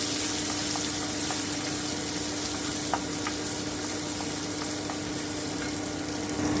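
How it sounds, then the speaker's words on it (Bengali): Prawns fry briefly in hot oil for a squash and prawn daalna, giving a steady, even sizzle that carries on without a break, with a few soft clicks and stirring knocks over it. "চিংড়ি মাছটা কিন্তু ভাজা হয়ে গেল"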